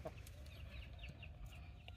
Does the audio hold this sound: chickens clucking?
yes